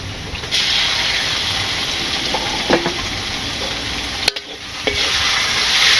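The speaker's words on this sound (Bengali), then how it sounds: "পেঁয়াজগুলা ভাজি হচ্ছে আর কি" Onions frying in a pan give off a steady, close hiss and sizzle, with a few brief clinks and stirs along the way and no voices.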